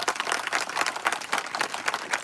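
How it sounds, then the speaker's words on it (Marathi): An audience at a Mahanubhav padyatra gathering in Digras claps together: a brief burst of crowd applause, dense and fairly close, with rapid overlapping hand claps at an even level throughout. "बाबांसाठी एकदा सर्वांनी टाळ्या वाजवा"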